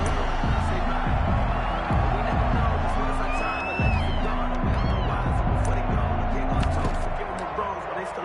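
A stadium crowd roars steadily at an NFL game between the Cincinnati Bengals and the Chicago Bears. A dense wash of cheering and chatter carries scattered whoops and repeated thumping beats, with a voice talking over it.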